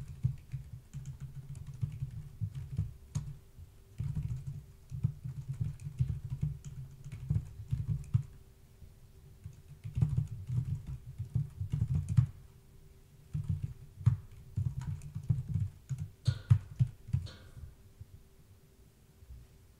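Code typed on a computer keyboard while building a Unity editor tool, bursts of quick close key clicks with brief pauses between runs over a low steady hum, no talking.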